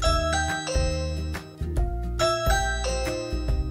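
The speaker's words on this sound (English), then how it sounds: "Ring alerts sound like this." A Ring Chime plays its Ring alert, a bright melodic sequence of bell-like tones repeating twice in a clear, loud pattern with no talking.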